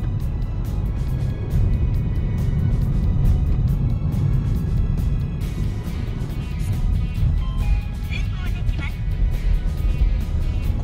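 A car drives along a highway road in Sapporo, approaching an expressway interchange, heard from inside with a steady low engine and road rumble throughout while someone talks over it.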